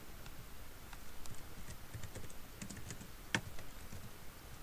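Soft clicks of a computer keyboard as someone types into a writing file, an irregular patter of keystrokes with one sharper tap near the end, close but quiet with no talk.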